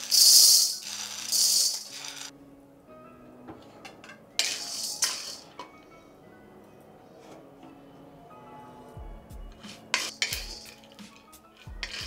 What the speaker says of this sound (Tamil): இப்போ நம்ம சோளம் வறுத்துக்கலாம்.